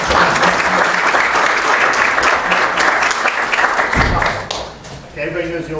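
An audience at a town hall meeting in Whitehall applauds loudly and steadily, with dense clapping throughout that tapers off near the end as a few voices come through.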